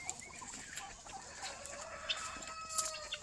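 Chickens kept in a farm shed cluck and call intermittently at a moderate distance, with occasional brighter squawks over a steady, faint background hiss.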